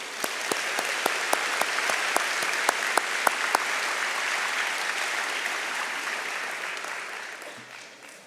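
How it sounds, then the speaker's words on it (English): Sustained round of applause from a banquet audience at an aviation competition dinner, dense crowd clapping with a few sharp nearby claps early on, steady then tapering off near the end. "Give another round of applause."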